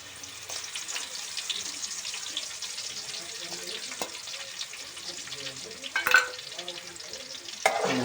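Green onions fry in oil with cumin seeds, a soft steady sizzle with stirring scrapes and a couple of louder clanks of a utensil against the pan near the end.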